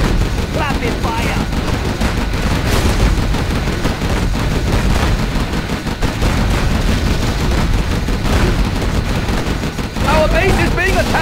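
Dense, continuous rapid gunfire and explosions from a Command & Conquer Generals Zero Hour China-campaign battle, loud and unbroken throughout, with voice lines of unit chatter mixed in.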